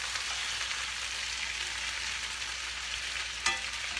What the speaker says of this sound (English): I'm gonna go ahead and flip these potatoes and onions and squash.